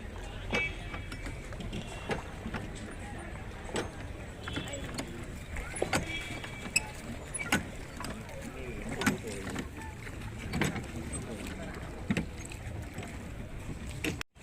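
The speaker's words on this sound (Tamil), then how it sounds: "ஓகே, நம்ம வந்து இப்போ போட்டில் ஏறிட்டோம்" A boat ride on a lake at Kodaikanal, with a steady low rumble and water wash throughout, rhythmic knocks and creaks like oars or oarlocks recurring every second or two, and people talking faintly nearby.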